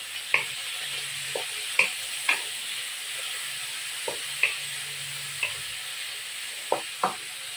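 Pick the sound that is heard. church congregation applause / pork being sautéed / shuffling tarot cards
pork being sautéed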